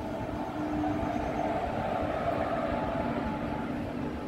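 The Rupasi Bangla Express rolls along at a steady pace from inside a coach, a continuous rumbling roar of wheels and carriage with a constant hum and no voices.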